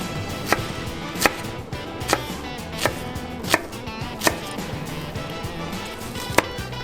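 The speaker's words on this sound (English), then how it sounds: "break the onion down so that it's small, equal-sized chunks" A knife chops an onion into small chunks on a board, about eight crisp evenly spaced knocks over a soft background hiss.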